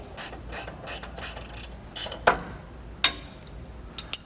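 On a 2015 Winnebago Vista motorhome, a ratchet wrench loosens a bolt on the front anti-sway bar mount, making bursts of sharp, rapid pawl clicks followed by a few separate louder clicks. The sound is close and clear, and no one talks.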